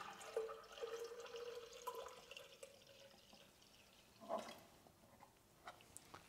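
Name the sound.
colored water poured into a pressure reactor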